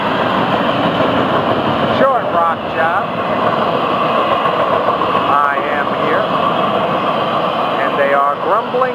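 FEC202, a Florida East Coast freight train, rumbles along freshly ballasted track in a dense, continuous roar, loud and near. Shifting whining tones rise and fall over it, and a voice can be heard at times.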